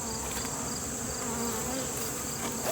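Steady drone of many honeybees buzzing close around a hive entrance fitted with a mouse guard, a continuous dense hum with no talking.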